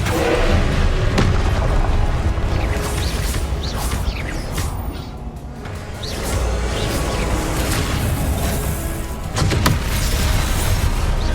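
Loud, dense game combat from Hogwarts Legacy on PS5: repeated booming Confringo fire-blast explosions and crashing impacts come one after another with almost no pause, the loudness dipping briefly midway before the rumbling blasts return.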